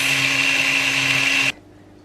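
A blender motor runs at a loud, steady whir while doing a turbo rinse with water, then cuts off abruptly near the end, leaving near silence.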